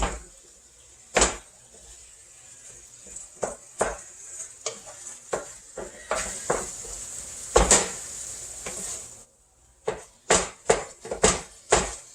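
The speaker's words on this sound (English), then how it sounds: "Let me mix my ground beef." Ground beef mixed with eggs in a bowl, heard as a string of wet, sticky squelches and taps, close and fairly quiet, irregular with short pauses between strokes.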